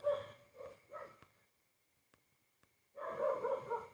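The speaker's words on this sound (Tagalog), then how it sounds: "So, maraming kumakahol na aso." Dogs barking at night around 2 a.m. on the way to the sea in Zambales, a few nearby barks in quick bursts, a short quiet gap, then another loud run of barking.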